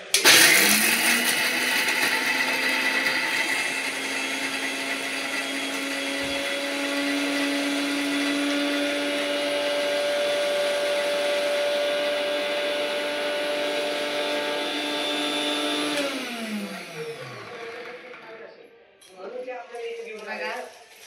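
A kitchen mixer grinder whirs at high speed with a steady motor hum for around sixteen seconds, then winds down and stops, followed by a short stretch of voice.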